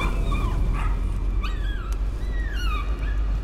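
Dogs barking, yipping and whining inside the horror video game Layers of Fear, several sharp calls scattered over a steady low droning ambience, moderately loud and fairly close.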